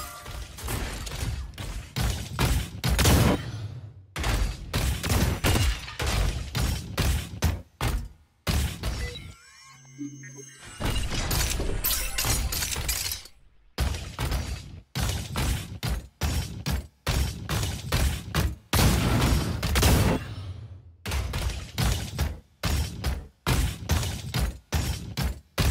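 Gunfire in the video game Super Mecha Champions comes as repeated sharp bursts of shots separated by short pauses, loud and close across the whole stretch.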